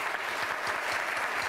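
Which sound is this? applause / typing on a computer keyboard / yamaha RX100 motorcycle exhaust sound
applause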